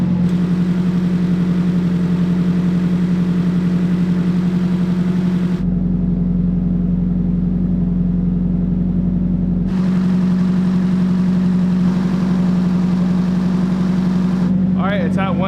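A Nissan S14 with a newly installed ISR fan shroud idles while warming up, giving a loud, steady, droning hum with a strong constant tone. Its texture shifts for a few seconds midway before returning to the same even idle.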